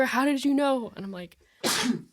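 A single sharp sneeze bursts out near the end, loud and close, following a stretch of casual conversational speech in a quiet room.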